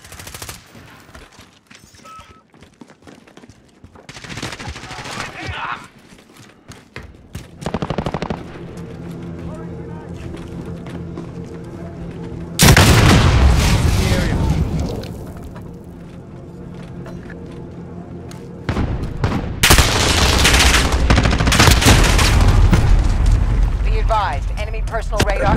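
Bursts of automatic gunfire and explosions in the video game Call of Duty: Modern Warfare, during a team deathmatch multiplayer match, loud rapid rattling in several long volleys with brief lulls between, mixed with game voice callouts.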